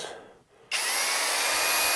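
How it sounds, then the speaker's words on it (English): After a brief quiet moment, an electric drill starts up abruptly and runs steadily at high speed, a loud close whine continuing alone to the end. "I hope this drill doesn't scare her away"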